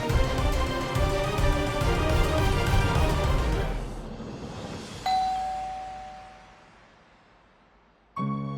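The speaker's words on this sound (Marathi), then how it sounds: "हे काय आज बेल वाजवलीत?" Doorbell at a home's front door, a single loud ding-chime that rings out and decays slowly over several seconds after louder background music fades, followed by a sharp sound at the end.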